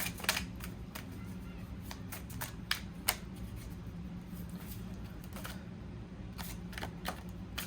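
Tarot cards are shuffled by hand indoors, a quiet run of crisp clicks and flicks scattered over nearly eight seconds against a low steady background hum.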